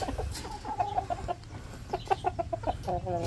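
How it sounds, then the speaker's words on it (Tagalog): Several Rhode Island Red hens cluck close by in short repeated bursts, a soft hum of background noise underneath. "update natin yung mga manok natin"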